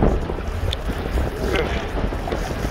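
Strong wind buffets the microphone with a constant low roar while waves churn nearby during a needlefish fishing trip at sea in rain and gale conditions; no voices, just steady rushing noise.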